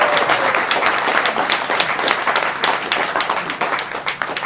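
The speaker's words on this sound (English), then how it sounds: "Let's clap for" An audience at a mayoral affordable housing announcement applauds a speaker, with steady, moderately loud clapping from a crowd throughout.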